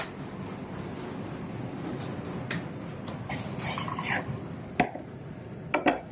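A knife saws through a loaf of freshly baked brown bread with soft, steady rasping strokes, ending with a few sharper scrapes and clicks.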